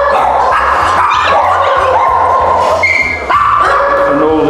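Two Border Collie puppies yip, whimper and bark excitedly in a rapid, close, loud stream, with scrabbling movement underneath.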